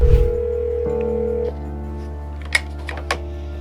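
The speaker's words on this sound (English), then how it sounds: "I guess he's not picking up the phone" A telephone call ringing out unanswered: steady electronic tones hum on in the earpiece, with a few small clicks near the end and no voice answering.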